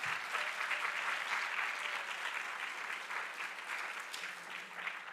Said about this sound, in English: want to give a round of applause to our dedicated faculty advisors